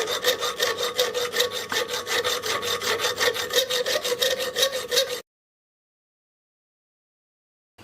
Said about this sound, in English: I'm gonna file that more around